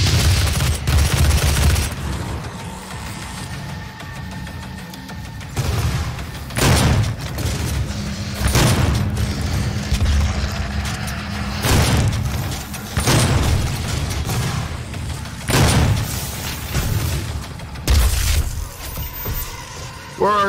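Rockets firing and exploding in the Doom video game arena: a string of sharp, loud booms and blasts arriving in irregular bursts every couple of seconds over a rumbling combat backdrop, with a voice speaking in places.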